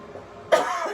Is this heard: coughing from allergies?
yes